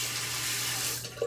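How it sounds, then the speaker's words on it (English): Tap water runs for rinsing, a loud, steady, close-up rush that continues for the whole brief moment with no other sounds. "I'm gonna rinse."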